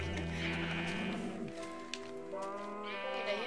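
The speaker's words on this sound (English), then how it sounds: "The heck, how did the sheep get in there?" Sheep bleating in the Minecraft video game, a few wavering bleats close by and steady over a soft rain-like background hiss.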